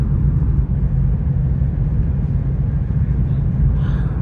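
A steady, low rumbling hum fills the passenger cabin of the Whoosh high-speed train between Jakarta and Bandung at nearly 300 km/h, constant and muffled, with no voices.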